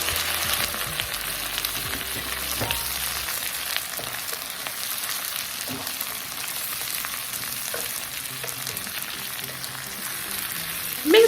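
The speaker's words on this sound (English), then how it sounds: "rings of yellow onions into that garlic seasoned butter. Yes, work that in, guys. Work it in and let it sizzle until it is lightly caramelized" Rings of yellow onion sizzle steadily in garlic seasoned butter in a pan, a constant close crackling hiss with occasional stirring clicks and no talking.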